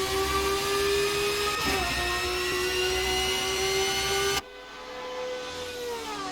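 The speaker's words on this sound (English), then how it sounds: "Wow, that's a very, very loud engine, as Sobek only half a second behind." A loud race car engine in the Assetto Corsa racing game at Le Mans, a steady high-pitched harmonic whine held near the listener, then an abrupt cut to a quieter engine tone that rises gradually.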